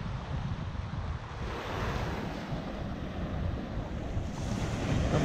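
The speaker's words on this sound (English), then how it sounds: "A beautiful beach day" Surf rolls onto a Florida beach at Robasso Beach on a calm March day, a steady broad wash of waves with wind buffeting the microphone, moderately loud and continuous, no talking.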